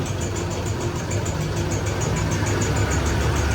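A Honda CBR250R motorcycle engine with a faulty top end runs steadily at idle, a close, continuous low hum with a faint rhythmic ticking on top.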